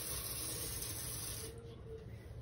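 Water sprayed onto sphagnum moss while setting up a tarantula enclosure, a steady close hissing spray that runs loud then drops off sharply partway through, continuing softer to the end.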